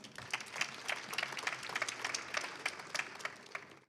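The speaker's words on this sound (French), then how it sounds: "Je pense qu'on peut l'applaudir." A conference audience applauds after a speaker, with steady dense clapping of moderate loudness lasting several seconds and then stopping abruptly.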